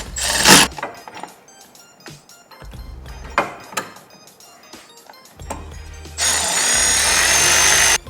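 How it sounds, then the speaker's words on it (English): A power drill runs 10mm bolts into a car mount, with short bursts of the drill and metallic clinks and handling noise between, ending in a longer steady drill run, close up with no speech. "I'm gonna zap these in just to make my life easier"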